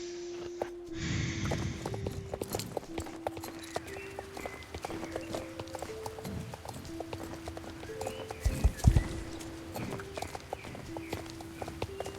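Horse hooves clip-clop at a steady walking rhythm in the video game Star Stable Online, over a soft game music drone, with a heavier thump near the end.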